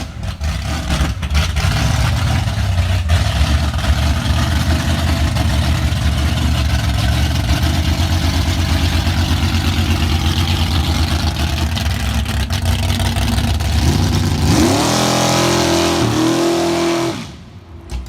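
A loud Ford 428 Cobra Jet V8 engine rumbles at steady idle for a long stretch, then revs up sharply several times near the end before cutting off.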